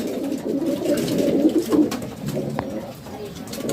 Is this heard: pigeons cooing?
yes